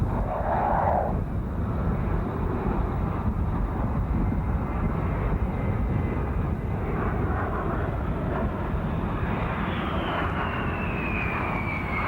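A B-2 stealth bomber's jet engines roar steadily during a high-speed taxi run in desert heat, a loud, sustained whine with a rising tone toward the end.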